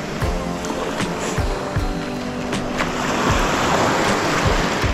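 Steady ocean surf and sloshing water surround a person wading back into the sea beside rocks at a sunny beach, with loud continuous wash and low splashing thumps throughout, and no talking.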